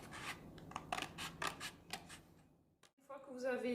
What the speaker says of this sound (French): Là, on découpe la partie imprimée.